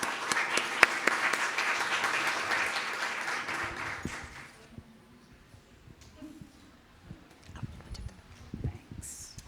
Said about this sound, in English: let's give our panelists a big round of applause